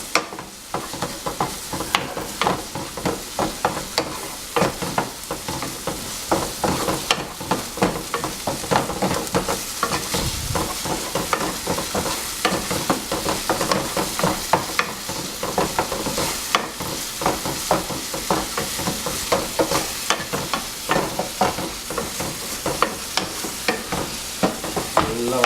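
Kothu parotta masala being stir-fried in a pan, with a steady loud sizzle and dense, rapid scraping and clattering of the stirring tool throughout.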